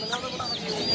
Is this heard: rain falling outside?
no